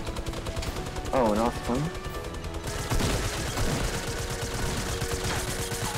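Rapid gunfire in a Fortnite squad match, with repeated bursts and shots throughout, heaviest in the second half, while a player talks briefly over it.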